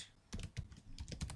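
Someone types code on a computer keyboard, a quick run of close, clicky keystrokes in short bursts, with no speech over it.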